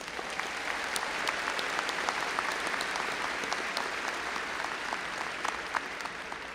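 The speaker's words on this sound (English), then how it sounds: "Please join me in giving them a round of applause." Steady audience applause fills a university commencement hall, a dense wash of many hands clapping evenly for several seconds with no voices over it.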